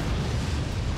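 A shotgun firing in the artillery strategy game Forts, a heavy low booming blast that fills the whole second, loud and sustained with no voices.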